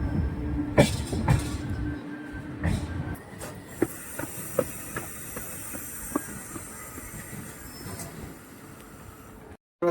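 A night passenger train on the Okha to Veraval route pulling out of Gondal railway station, with low rumbling, rhythmic wheel clacks and a faint hiss, ending in a brief silence.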